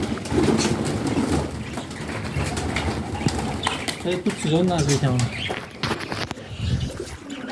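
Pigeons coo and wings flap in bursts while someone talks nearby over a busy outdoor background.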